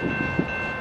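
CN mixed freight train with four engines, eastbound at Battle Creek, Michigan, rumbling past as a steady continuous roar with a sustained tonal whine and faint clanks.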